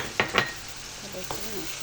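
An egg fries in a pan for a Filipino ginisa, giving a soft steady sizzle broken by a few short crackling bursts and light pan scrapes, heard close and fairly faint.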